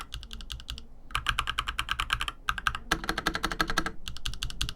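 Fast, continuous typing on a Hator budget gaming mechanical keyboard with linear Pink switches and double-shot PBT keycaps, dense clacking keystrokes in bursts with brief pauses, close and clear with no talk.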